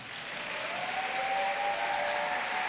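Congregation in a church applauding the intercessor sisters, a steady wash of clapping that swells slightly and holds, with a faint thin whistling tone running through it.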